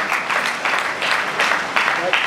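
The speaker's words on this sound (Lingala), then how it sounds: "nous pouvons que les féliciter et applaudir très fort pour le couple Diabanda" An audience at a wedding celebration applauds a married couple, with brisk clapping rising and falling in waves and voices mixed in.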